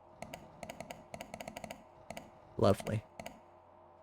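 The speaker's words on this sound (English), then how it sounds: "I do love the clicking noises in this game." Crisp, close in-game clicks in quick irregular clusters from the video game Lost Wiki, interrupted once by a short spoken word before a few more clicks.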